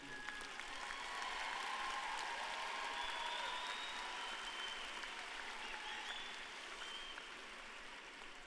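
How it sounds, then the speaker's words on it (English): A college commencement audience gives sustained, even applause for the graduates' families and supporters. The clapping is faint and distant, with soft cheers rising over it and tapering off after about eight seconds. "can we please give your support team, your support system, a round of applause for everything they have poured into you?"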